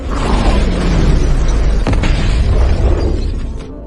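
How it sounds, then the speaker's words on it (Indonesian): A loud, sustained explosion rumbles with deep booming and crackling debris, filling the space for several seconds before fading. "tempat itu tiba-tiba meledak"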